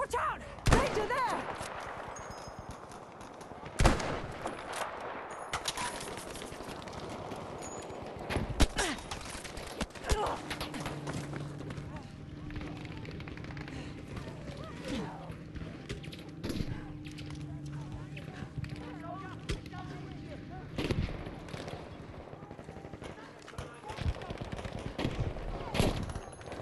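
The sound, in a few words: gunfire in the video game Battlefield 5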